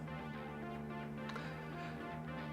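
A buzzy, fizzy electric guitar tone through the speaker simulation of a Peavey 6505MH amplifier, playing a steady sustained chord, moderately loud with a harsh, boxy top end.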